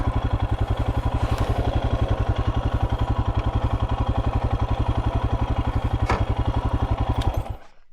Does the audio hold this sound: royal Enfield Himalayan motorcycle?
yes